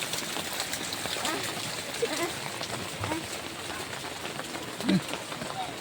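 River water flowing around a boat crossing a wide river, a soft, steady wash with a few small splashes, fairly faint and close.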